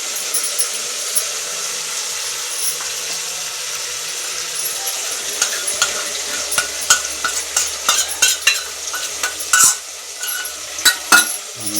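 Dal with spices cooks on a low gas flame while a metal spoon stirs it, a quiet hiss at first giving way to frequent sharp clinks and scrapes against the pot, close and alone.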